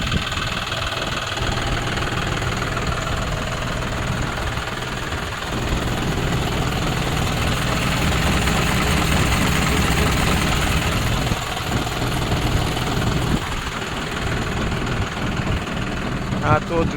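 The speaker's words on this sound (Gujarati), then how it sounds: "આપણે આ ટ્રેક્ટર છે 5105 છે, જોન ડીયરનું 4 વ્હીલ ડ્રાઈવ લીધેલું છે." A John Deere 5105 four-wheel-drive tractor engine idles with a steady low rumble and faint knocking throughout, close and continuous, with speech heard over it.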